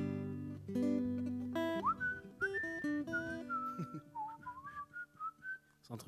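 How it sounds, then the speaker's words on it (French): A performer whistles a melody into a microphone at a live concert. The clear, close tones are sustained, then slide upward and break into a run of short rising and falling notes, with no one speaking. "on s'est quand même longtemps entraîné à siffler dans un micro"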